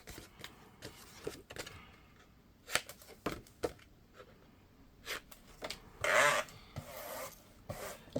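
Paper is scored on a scoreboard for a card-making folio, giving short scraping strokes and scattered soft taps and rustles at close range, with one longer rasping pass near the end.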